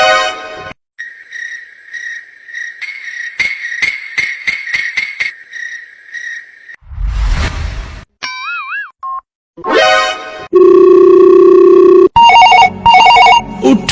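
A mobile phone in a cartoon comedy rings with repeated electronic tones, mixed with boings, whistle-like glides and other loud synthetic effects in quick succession.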